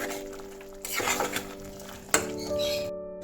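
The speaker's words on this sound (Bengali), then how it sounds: "এরপর একটু নেড়ে দেবো" Egg and besan curry with chopped coriander and green chilies is stirred in a pan, with two brief scraping strokes and a clink of the spoon over a steady tonal hum.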